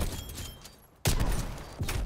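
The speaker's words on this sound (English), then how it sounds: "Shotgun." A single loud shotgun blast fires about midway in a Call of Duty Cold War Search and Destroy match, breaking a near-silent pause, followed by gameplay noise and another burst near the end.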